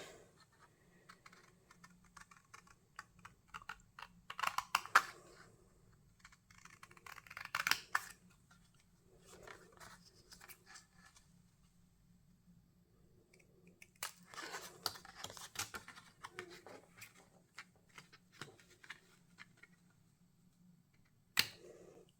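Scissors cutting out a paper shaker card, quiet snipping bursts in several clusters with pauses and a sharp final snip, close and soft, no talk.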